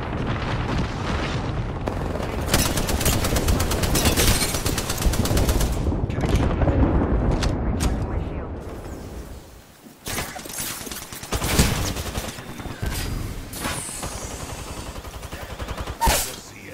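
Heavy automatic gunfire in an Apex Legends–style shooter match, with a Spitfire machine gun firing in long dense bursts and booming impacts, loud and close, then scattered sharper single shots and bursts after a brief lull.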